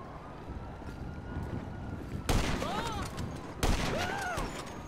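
Two sharp, loud sniper rifle shots in Grand Theft Auto V, a little over a second apart, each followed by a ringing whistle-like tail, over a steady low background hum.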